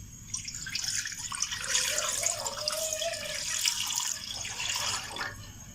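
Water poured into a cooking pan for mutton karela, a steady splashing and gurgling stream lasting several seconds, close and moderately loud with no speech.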